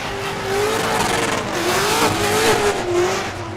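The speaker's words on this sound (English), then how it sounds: "Is he baiting him into donuts?" A race car doing donuts at Orange Show Speedway during a drift event, its engine droning loudly and steadily with squealing tires and faint crowd noise throughout.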